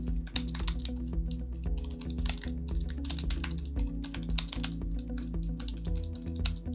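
An article title is typed on a computer keyboard in quick, close, continuous keystrokes with brief pauses, no talk.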